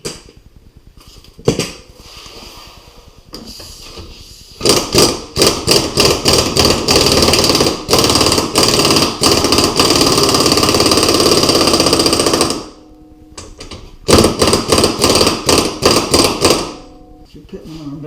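Repeated mechanical hammering and impact-wrench bursts while bolts are cranked down during a Rough Country 3.5-inch lift kit install on a 2007–2018 Jeep Wrangler JK, with short rapid bursts separated by brief pauses, loud and close.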